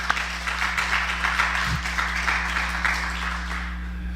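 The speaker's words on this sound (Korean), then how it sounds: "다시 한번 축복하며 박수합시다." Korean church congregation applauding during a Sunday service, a soft continuous patter of clapping heard over a steady low electrical hum, holding at an even level for about four seconds.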